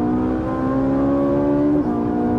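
A Ferrari 458 V8 screams near 9,000 rpm on a street circuit at Willow, giving a loud, sustained high-pitched engine note with a sharp dip as it shifts gear near the end. It is close and continuous, with no talk.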